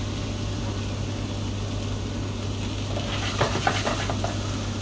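Chopped onion goes into a hot pan for homemade pizza, giving a steady, even frying hiss under a low electrical hum, with a few light utensil clicks near the end.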